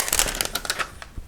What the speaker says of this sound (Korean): 비닐을 벗길게요.